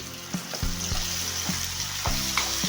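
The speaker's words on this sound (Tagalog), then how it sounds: "Lagay na natin yung ating alamang." Fermented shrimp paste (alamang) frying in a pan, a steady loud sizzle with intermittent scraping stirs of a utensil against the pan, no voices.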